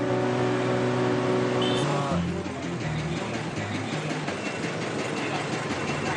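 Morning rush-hour street traffic in Hanoi, Vietnam: a short tonal, musical-sounding passage gives way to a continuous loud rumble of passing vehicles and engines, dense and nearby, with no clear speech.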